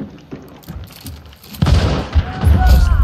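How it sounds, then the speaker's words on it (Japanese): Gunfire in the video game Hunt: Showdown: several sharp booming shots, faint and sparse at first, then a louder burst of heavy reports and rumbling thuds near the end. "今の銃声"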